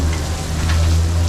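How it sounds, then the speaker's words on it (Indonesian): Steady rain falls outside in a Malaysian city centre, pattering on a surface with a constant hiss and a low hum underneath, no voices. "soalnya di luar lagi hujan"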